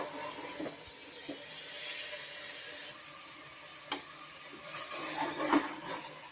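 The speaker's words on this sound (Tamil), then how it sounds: "இப்போ பார்த்தீங்கன்னா நம்ம வந்து அப்படியே ஃப்ரை பண்ண ஆரம்பிச்சிருக்கிறோம்." Mutton pieces fry in a pan for Salem mutton sukka with a soft, steady sizzle and hiss, broken by a few light stirring knocks against the pan.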